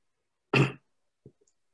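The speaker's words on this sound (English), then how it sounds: "I'll blame the smoky air on my cough." A single short, dry cough from one person, close up in a quiet room, followed by a faint throat sound.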